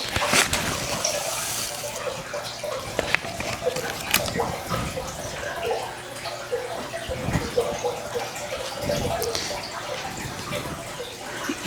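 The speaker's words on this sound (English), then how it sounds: "And if the water from the tank is too loud" Water runs steadily from a tank during indoor seed starting beside a two-tier grow light stand, a continuous splashing trickle with a few sharper clicks and knocks along the way.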